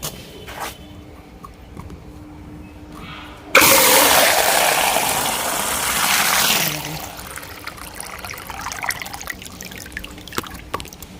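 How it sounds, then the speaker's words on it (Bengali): A tap is opened and water gushes out loud and close for about three seconds, then stops, leaving quiet background sounds. "এই যে কল"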